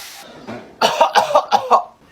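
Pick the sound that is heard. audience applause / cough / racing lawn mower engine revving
cough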